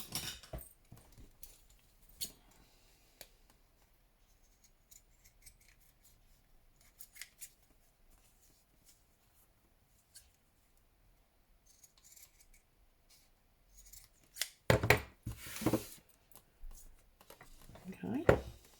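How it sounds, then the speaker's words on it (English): Scissors snipping through paper art tags at a craft table: a few quiet scattered snips early on, then a louder cluster of crisp cuts and rustling near the end, with soft handling noises between. "No, these scissors are rubbish"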